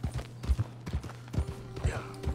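Horse hooves in Red Dead Redemption 2 clip-clop in a steady, quick rhythm of soft thuds, close and moderately quiet, with faint background sound and no clear speech.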